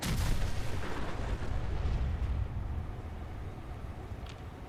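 Heavy explosion and gunfire in the video game Fallout 4 roar at the start, then settle into a dense, rumbling wash of combat noise that slowly fades, with no talk over it.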